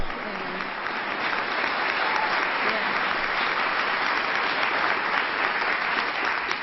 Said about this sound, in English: Let's give Chris a round of applause for her courage.